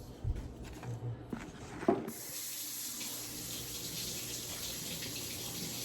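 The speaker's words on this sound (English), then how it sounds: "step 2 is wash your hands" Tap water runs steadily into a sink as hands are washed, a few clunks and handling knocks at the start before the flow turns on and continues as a constant close rush.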